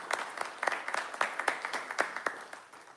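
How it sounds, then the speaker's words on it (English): A small audience claps at a diabetes awareness and fundraising event in Wollongong, scattered individual hand claps near and distinct, forming a modest round of applause that fades slightly toward the end. "Round of applause!"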